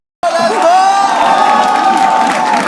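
A stand-up comedy audience cheers and whoops loudly and continuously, a dense crowd roar rising suddenly from silence and holding steady, with a few shouted voices standing out above it.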